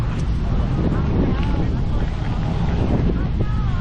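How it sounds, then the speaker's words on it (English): Strong wind buffets the microphone at a speedway where racing has halted and loose barriers blow around in sandy, dusty conditions, a steady loud roar throughout with a voice heard faintly. "the barriers are blowing around in this wind"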